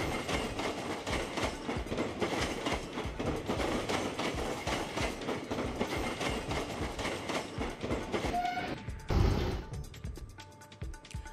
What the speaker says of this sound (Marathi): पूर्ण ट्रेन या तरुणाच्या अंगावरून गेली